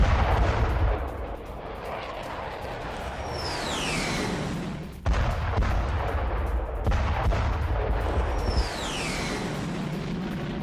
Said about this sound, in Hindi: युद्धपोत से ईरानी ठिकानों पर किए गए हैं हमले।